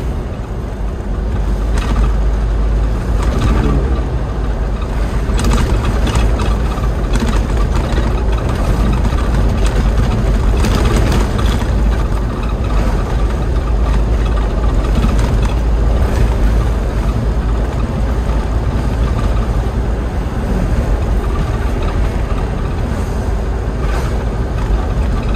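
Steady low rumble of an Elf NHR 55 truck engine pulling in fourth gear, a loud continuous drone with broad wind-like noise throughout and no voices.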